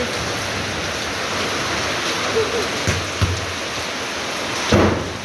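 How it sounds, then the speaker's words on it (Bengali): Afternoon rain falls steadily as a broad, constant hiss, with a few faint knocks and soft voices in the background. "দেখো বৃষ্টি আমাদের এখানে দুপুরবেলায় বৃষ্টি হচ্ছে।"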